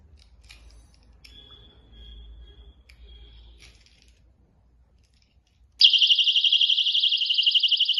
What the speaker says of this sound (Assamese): এইটো এলাৰ্ম বাজিছে ইয়াত।